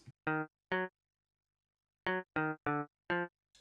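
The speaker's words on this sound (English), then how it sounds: "And then we got the bass that sounds like this." Bass or guitar part for a Shatta beat built in FL Studio: a rhythmic pattern of six short plucked, harmonic-rich notes, two early and four clustered after a long gap, playing alone with no talk.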